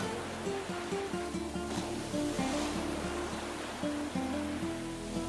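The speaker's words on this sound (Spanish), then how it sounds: "Te sientas en la arena para escuchar el ruido de las olas que vienen y van." Sea waves washing in and out on a sandy beach, a steady broadband surf roar at moderate level with gentle swells, alone under a soft background of tonal music.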